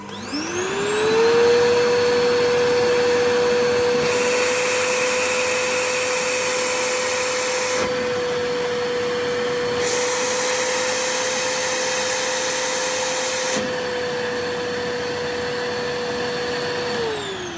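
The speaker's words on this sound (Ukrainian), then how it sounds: "Наприклад, ми вмикаємо пилосос." A vacuum cleaner powered by a Craftfull CP1800 portable power station starts up with a rising whine, runs steadily with a loud droning hum for several seconds, shifting in pitch partway through.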